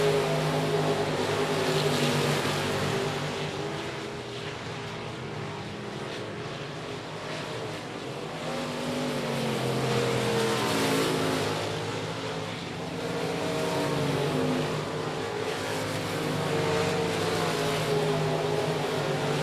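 Race cars roar around the track at I-37 Speedway in Texas, a continuous droning engine noise that swells and fades as the field passes, heard from a distance with no nearby talk.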